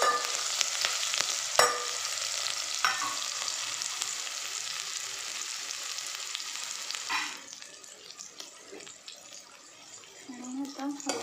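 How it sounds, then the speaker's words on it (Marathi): Chopped onion, green chillies and garlic tipped together into hot oil for a Maharashtrian dill stir-fry hiss and sizzle loudly up close, the frying settling to a quieter crackle after about seven seconds with scraping stirs. "आता इथे तेल तापत ठेवलं आहे आणि मी इथे कांदा, मिरच्या, लसूण कापून ठेवले सगळं आणि आता ते मी ह्या तेलामध्ये टाकणार आहे."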